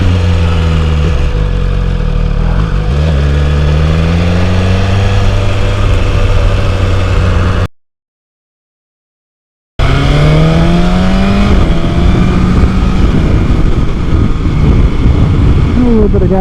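A 2021 BMW S1000RR sport motorcycle with new modifications, its engine loud and close, revving with sweeping pitch rises before a brief dropout, then another strong rev climbing and holding.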